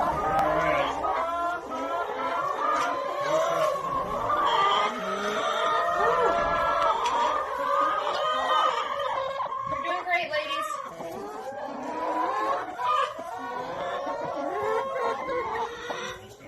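A flock of rescued hens, part of a group of 330 saved from gassing, clucks and murmurs continuously in a busy chorus, with people talking over them.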